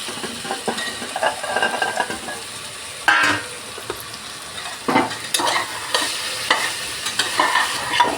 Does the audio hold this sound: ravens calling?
no